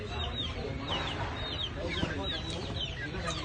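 Chickens cluck and chatter continuously in a busy, close-up farm scene with several birds overlapping, their calls dense and lively throughout, while people can be heard talking underneath.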